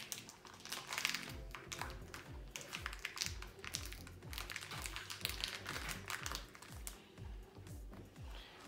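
Crinkly plastic wrapping of a Candy Crush candy package being torn and pulled open by hand, a quiet, continuous run of rustles and crackles, heard alone at close range.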